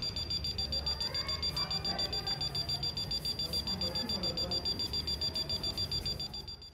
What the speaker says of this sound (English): the buzzer starts making the sound